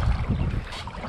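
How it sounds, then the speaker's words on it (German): A sea kayak is paddled into a strong headwind and two-metre waves, giving a brief close splash of paddle and water beneath buffeting wind noise. "Wir paddeln jetzt schon 30 Kilometer bei starkem Gegenwind und 2 Meter Wellen."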